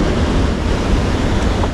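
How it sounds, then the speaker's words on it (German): Ocean waves up to three meters high break at a surf spot, a loud continuous roar of surf mixed with wind buffeting the microphone, steady from start to finish with no voices. "Die Wellen an dem Tag hatten bis zu 3 Meter und einen ganz ordentlichen Push."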